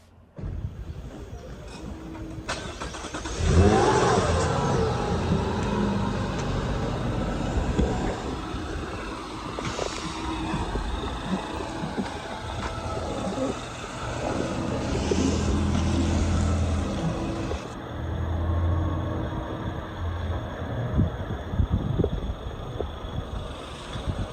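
A 2024 Mazda CX-90 with a 3.3 liter straight six cranks and fires up, settling into a steady idle hum with a few revs that rise and fall, heard close and alone without talking.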